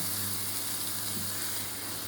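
Steady, close sizzling and crackling of millet and carrot fried in a pan, a continuous hiss with no voices.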